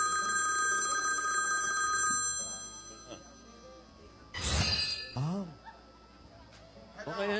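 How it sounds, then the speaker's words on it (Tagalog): A telephone rings with a bright, steady electronic tone for about two seconds, then stops as people talk nearby with a clatter and other voices in the background. "May tumatawag ulit."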